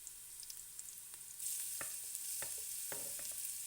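Chopped garlic hits a hot pan for vegetarian lentils, and a steady bright sizzle swells up and holds, with a few soft scraping stirs along the way, and no voices.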